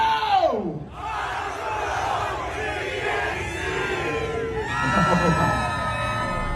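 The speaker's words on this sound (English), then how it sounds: "As you just heard, the awesome crowd at Bonnie and Clyde's Gangster Park in Harshaw" A crowd cheers and yells at Bonnie and Clyde's Gangster Park in Harshaw, a loud, sustained roar of many voices with whoops and shouts rising and falling.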